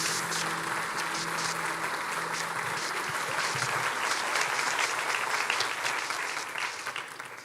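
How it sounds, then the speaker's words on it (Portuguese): A church congregation gives a warm, sustained round of applause to welcome pastor Armando, dense and even clapping that fills the room with faint voices underneath, fading slightly at the end. "Eu quero que você receba o pastor Armando com um caloroso aplauso"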